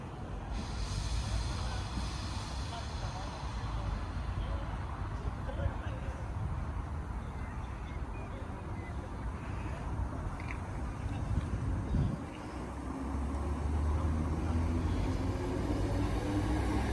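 ScotRail train 32414 departs Motherwell station for Cumbernauld, a continuous low rumble and hiss of the moving train heard from the platform, with the engine's drone rising toward the end.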